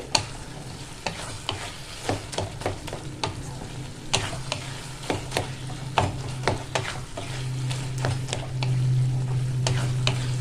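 Banana stem and potato curry stirred in a pan: repeated scraping strokes of a spatula over a steady low sizzle, close and fairly loud, with no talk.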